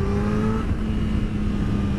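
A Subaru car engine revs during a wheelie attempt, a steady close engine drone with a rising whine over two seconds.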